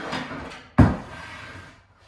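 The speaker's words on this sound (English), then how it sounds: "Can you open the door?" A door is opened nearby with a single sharp thump of the latch or frame, framed by soft rustling and scraping before and after.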